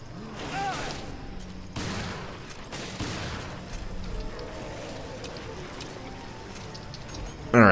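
Bursts of rapid gunfire in Resident Evil Revelations, several loud volleys in the first few seconds and then a steadier rattle, with players' voices talking over the shooting.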